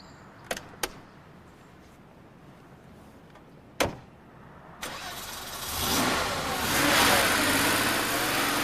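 A Porsche 911 Turbo with a 3.6-litre turbocharged engine, the same unit as the Carrera 2 and 4, starts up with a couple of sharp clicks and a thump, then swells into a loud, steady engine roar close by.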